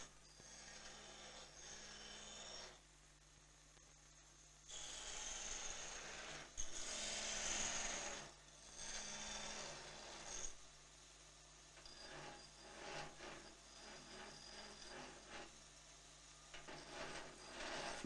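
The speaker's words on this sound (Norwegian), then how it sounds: "Så blir bila slipt på smergelskiva." An axe is ground on an emery wheel in a smithy in Fagernes, giving sustained, loud grinding and rasping bursts with pauses between passes as the blade is pressed and lifted, with no speech.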